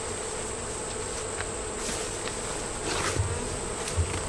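Bees buzz steadily around a hive box set in front of the hive entrance, a continuous close drone with a faint high whine and occasional louder passes of individual bees.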